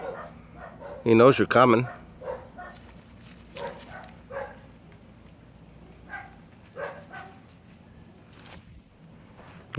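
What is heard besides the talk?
dogs barking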